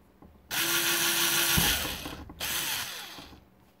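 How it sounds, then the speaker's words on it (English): A power drill whirs steadily for about two seconds, slows briefly, then runs again, drilling holes in metal, with a metallic grinding edge and no talking. "Now we'll just drill them out."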